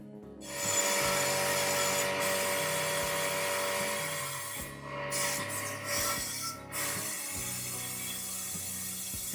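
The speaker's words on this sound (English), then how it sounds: "just use a little Scotch wheel on my roll-off so it doesn't do too much damage to the surface area" Small Scotch abrasive wheel on a roll-off tool scrubbing a cracked aluminium alloy wheel, a continuous close whirring grind with a rasping, rubbing texture that briefly drops out and resumes.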